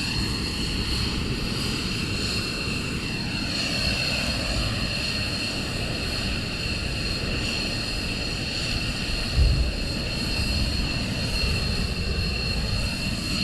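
Military jet aircraft idle and run up at RAF Lakenheath during morning surge operations, a steady distant engine roar with shifting whine tones and no speech.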